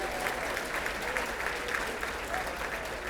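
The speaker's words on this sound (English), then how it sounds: "Yes, that deserves applause." School district awards audience clapping steadily, a dense, even wash of applause heard from within the crowd, moderately loud with no talk over it.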